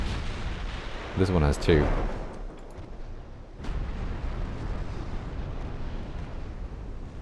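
A light cruiser fires torpedoes in the naval game Ultimate Admiral Dreadnoughts, with booming battle effects rumbling throughout, while someone speaks briefly over them.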